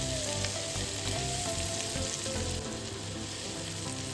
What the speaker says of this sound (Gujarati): ઝીણા ચોપ કરેલા કાંદાને પણ આપણે લઈ લઈશું બે મિનિટ છે ને આપણે બ્રાઉન થવા દઈશું